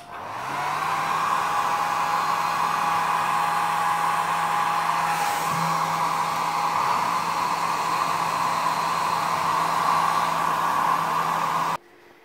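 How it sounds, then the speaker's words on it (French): A hair dryer blows with a steady, loud whooshing hum for several seconds, then cuts off abruptly. "Pour l'instant je vais prendre le sèche-cheveux et j'essaye."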